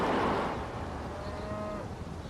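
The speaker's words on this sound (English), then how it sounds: "Cow." A cow lets out a single drawn-out moo at moderate distance, its low tone sliding and holding for about a second over a soft outdoor wash of background noise.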